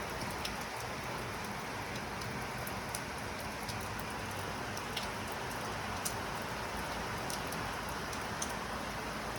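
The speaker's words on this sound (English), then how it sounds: "It's still drizzling actually a little bit." Steady light drizzle falling on a rainy day in the Dominican Republic, a continuous dense hiss with occasional sharper drips close by, no voices.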